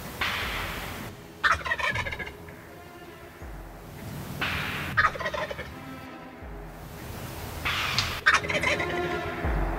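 A wild turkey tom in Wisconsin gobbles loudly three times at spaced intervals, each burst a rapid rattling call, with quiet outdoor ambience and soft rustling between.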